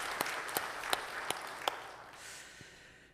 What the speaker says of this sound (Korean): 우리 성령님께 영광의 박수를 드리겠습니다